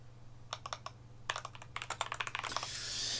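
Keystrokes on a computer keyboard tap out in short irregular bursts against a low steady hum, building into a quicker run of presses near the end, with no one talking.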